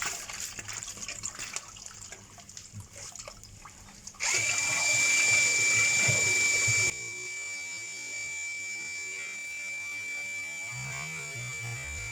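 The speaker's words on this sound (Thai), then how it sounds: "นี่ผมเปิดน้ำอันนี้ไว้อยู่นะ เปิดไว้ เปิดไว้เปิดแล้ว" Water running from a tap into a bathroom floor drain being unclogged, a steady hiss that starts loud, then continues at a lower level, with faint background noise and a little talk.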